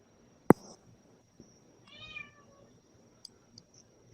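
A cat meows once, a drawn-out nasal call rising and falling, moderately close but soft against a quiet room, with a sharp knock just before and a few faint clicks after.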